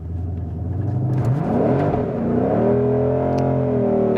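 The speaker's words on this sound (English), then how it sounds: "And there's my burnout" A 2020 Shelby GT500 engine revs hard during a line-lock burnout, a loud, close growl climbing in pitch and holding high alongside a whirring drivetrain.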